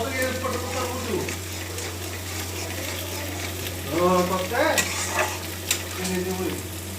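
Bhakur fish sizzles steadily in hot oil, a continuous crackling hiss with a low hum beneath and a voice speaking briefly partway through.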